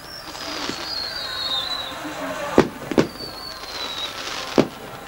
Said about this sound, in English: The fireworks go off